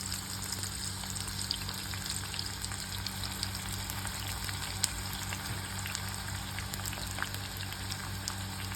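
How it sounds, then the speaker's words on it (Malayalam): Jackfruit pieces dusted with turmeric fry in hot oil, giving a steady, dense sizzle that runs unbroken from start to finish with a faint crackle on top and no voices. "നമുക്കിത് ചൂടായ എണ്ണയിലേക്ക് ഇട്ട് വറുത്ത് പോരാം."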